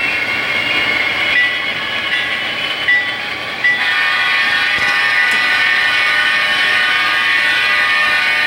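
A model railroad train runs steadily on a club layout, giving a continuous close rumble with a sustained horn-like tone over it. No one talks.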